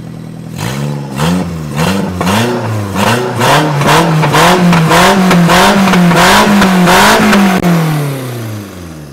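A Perodua Myvi fitted with Passo Racy parts revs loudly and repeatedly up close, its engine note climbing and falling in steady rhythmic pulls before easing off.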